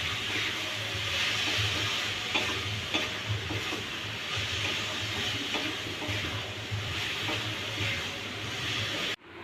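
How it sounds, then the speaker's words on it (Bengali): A spoon stirs a thick, sweet coconut naru mixture of sugar and milk in a hot pan, a continuous scraping and sizzle with repeated strokes at close range and no talk. "ঘন ঘন নাড়তে হবে, সাইড দিয়ে যাতে লাল না হয়ে যায়।"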